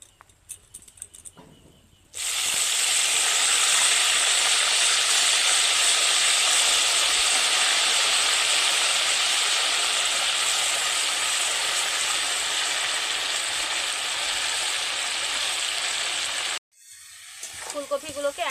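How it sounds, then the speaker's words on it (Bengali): Cauliflower florets frying in a wok of hot oil give a loud, steady sizzle and hiss that starts suddenly after a few seconds and runs without a break, then cuts off near the end. "ফুলকপিগুলোকে একই রকম লাল লাল করে ভেজে নিচ্ছি"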